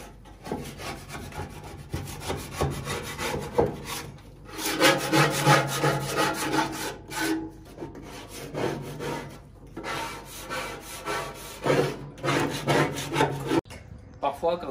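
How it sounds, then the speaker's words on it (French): Steady scraping and rubbing inside a Weber gas barbecue, dry with no water or cleaning product, loud and close with rough rhythmic strokes in bursts and brief pauses between them. "Pour l'instant, je gratte juste."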